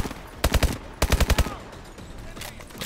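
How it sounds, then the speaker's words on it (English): Bursts of automatic gunfire in Call of Duty: Advanced Warfare, two loud rapid volleys of several shots each, followed by quieter game background noise. "Oh shit, where are we getting shot from now?"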